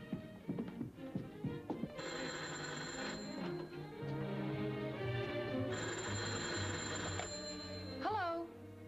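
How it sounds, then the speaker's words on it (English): An old telephone bell rings in long metallic bursts, two extended rings separated by a pause, in a 1942 film scene, with brief voices around the rings. "Is that your phone?"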